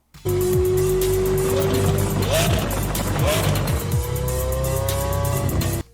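A supercar drives past in played-back footage, with a loud sustained engine roar, rising and falling revs and tire noise under a music bed, continuous from start to end.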